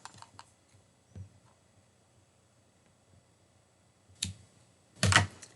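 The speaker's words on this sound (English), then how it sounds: "Now I'm going to cut this piece off." Scissors snip off a piece of knitting yarn, giving a few faint clicks early on and then two sharper, louder cuts near the end, close and alone in a quiet room.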